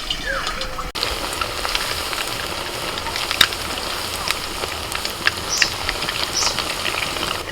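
Jilipi pithe frying in medium-hot oil, a dense continuous crackling sizzle with sharper pops scattered throughout, close and fairly loud after a brief opening rustle.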